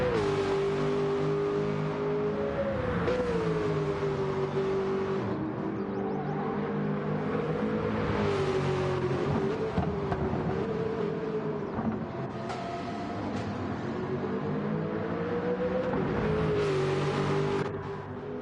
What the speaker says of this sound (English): The lovely V8 sound of the Aston as well.